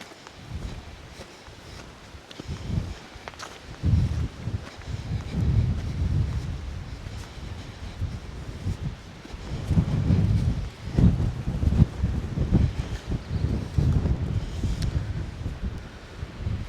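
Strong gusty wind on an exposed hill edge buffets the microphone in heavy low rumbling surges that rise and fall, louder in bursts around the middle and later, with no talking.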